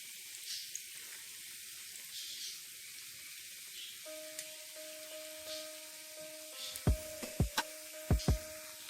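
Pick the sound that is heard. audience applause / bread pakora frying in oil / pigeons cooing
bread pakora frying in oil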